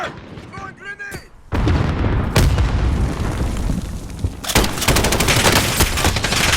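Call of Duty: Modern Warfare combat: after a shouted voice, heavy rifle fire and booming grenade blasts erupt, loud dense bursts of gunfire that swell again near the end.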